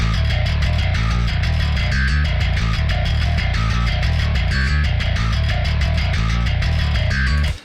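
A groovy bass guitar riff from the SubMission Audio GrooveBass virtual instrument pumps along in a steady rhythm inside a dense, loud band mix, cutting off abruptly at the end.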